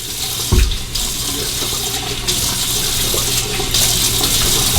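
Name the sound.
splashing water from tap onto face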